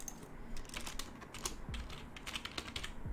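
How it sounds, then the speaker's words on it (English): Soft, steady clicking of computer keys as someone types on a keyboard, with quick irregular taps heard close and faint, and no talk. "I'm typing really slow."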